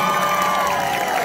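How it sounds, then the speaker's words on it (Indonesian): Concert crowd at Taman Bung Karno in Buleleng applauding and cheering inside a large venue, a dense sustained wash of clapping with a faint tonal ring running through it, steady and loud throughout. "Tepuk tangan dong buat kalian semua"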